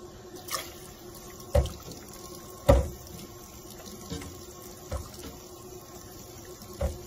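Cold tap water runs over homemade butter churned from a dairy cow's cream, a soft steady wash broken by several sharp knocks and splashes, fairly quiet and without talk.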